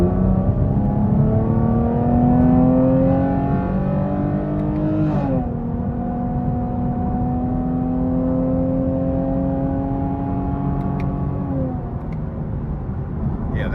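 A 2023 Chevrolet Camaro 2LT RS with a V6 and 10-speed automatic in manual mode revs up through successive shifts, the engine note climbing then dropping at each change, heard from inside the cabin, steady and moderately loud.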